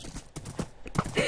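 Horse hooves in Minecraft clip-clop in a quick, uneven rhythm, close and moderately loud, in a brief burst.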